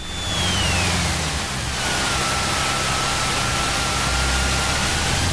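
A Cessna 172 piston engine runs during pre-takeoff run-up checks, its steady drone easing from a higher RPM to a lower setting, loud and continuous with no voices.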